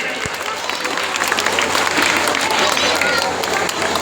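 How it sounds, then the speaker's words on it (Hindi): Loud, dense applause from a crowd at a school prize-giving ceremony, steady and continuous throughout with a wash of crowd noise. "मंत्री जी के लिए और जोरदार तालियां बजाइए"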